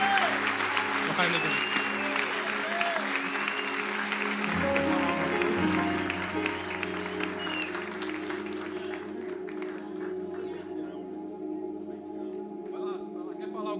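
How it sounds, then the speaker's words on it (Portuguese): Congregation at a live church service applauds steadily, a broad wash of many hands clapping under a continuous low musical drone, gradually thinning out toward the end. "Você pode aplaudir ao Senhor por essa família."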